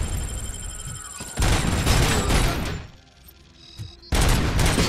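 Grenade blasts and bursts of gunfire in the RoboCop: Rogue City video game, loud booming explosions and rapid shots in two heavy bursts with a brief lull between.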